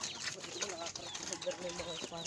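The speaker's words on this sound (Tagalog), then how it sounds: "Yung mga manok." Chickens cluck and chatter at close range on a farm where pigs are also being fed, short fowl calls mixed with people talking in the background.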